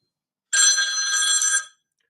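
Telephone ringing with an incoming call on a radio show, a single loud, steady electronic ring lasting about a second, heard alone in a quiet studio.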